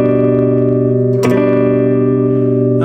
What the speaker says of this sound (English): I'm just strumming all three strings